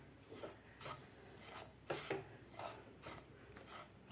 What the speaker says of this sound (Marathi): एकसारखं याला हलवत राहायचं आहे.